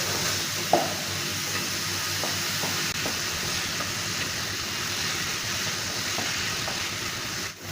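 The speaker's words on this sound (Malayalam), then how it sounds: "അപ്പോൾ നമ്മുടെ ആപ്പിൾ ബനാന മിശ്രിതം നന്നായിട്ട് വഴണ്ടിട്ടുണ്ട്" An apple and banana mixture with brown sugar sautés in a pan, giving a steady, moderate sizzle with a few faint stirring clicks.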